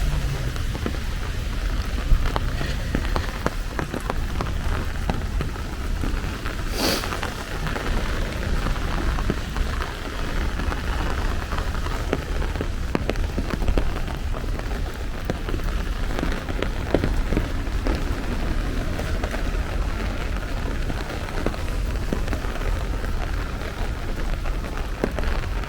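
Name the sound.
rain falling on a Brooklyn street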